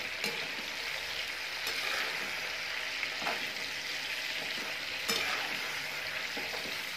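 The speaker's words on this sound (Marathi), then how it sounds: "हाफ फ्राय आपण थोडेसे तळून घेणार आहे।" Fish pieces half-frying in hot oil for a fish curry, a steady soft sizzle with occasional stirring scrapes and small pops, moderately quiet and close, no voices.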